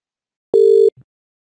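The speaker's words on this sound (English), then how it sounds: "I will dial my DID" A single steady telephone line tone after dialing a DID number on a 3CX phone system, lasting about a third of a second, followed by a brief low click, clear and alone.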